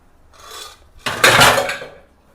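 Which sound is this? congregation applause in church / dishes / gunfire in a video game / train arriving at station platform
dishes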